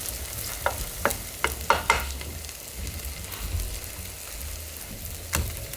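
Thick Korean potato pancake (gamja-jeon) fries in a pan over medium-low heat with a soft, steady sizzle, broken by a few sharp scraping and tapping sounds from a utensil.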